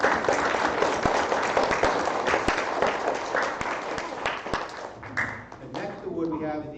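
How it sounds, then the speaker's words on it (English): Audience applause at a graduation-style ceremony: steady clapping from a sizable crowd that thins toward the end, with a voice speaking over it. "Big round of applause."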